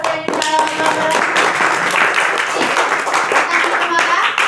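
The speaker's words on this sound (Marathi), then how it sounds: "मग धनश्री साठी एकदा सगळ्यांनी टाळ्या वाजवा" A classroom of students claps together for a classmate, a lively, continuous patter of hands with children's voices mixed in throughout.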